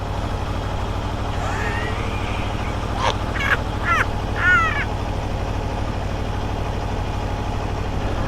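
A 2021 Aprilia Tuono motorcycle engine idles steadily with a low, even throb throughout, while bird calls and a few brief crow-like caws break in over it in the middle.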